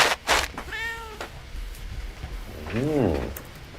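A neighbour's pet cat meows twice, close and clear, with a short rising-falling cry and then a longer drawn-out one over a steady indoor background hum.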